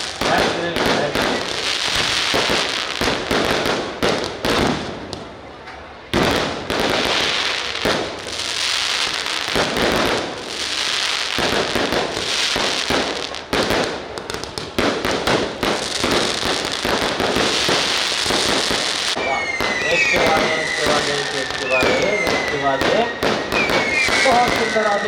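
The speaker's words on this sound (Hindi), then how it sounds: "बहुत सुंदर आतिशबाजी।" Fireworks at a Ramlila celebration crack and pop in dense bursts of sharp bangs for about 25 seconds, loud and close, with whistling rockets toward the end and someone talking over the display.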